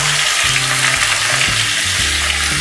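A chopped large onion dropped into hot oil for poori aloo masala, a loud continuous close sizzle and hiss with occasional stirring clunks underneath.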